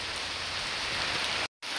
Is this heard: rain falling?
yes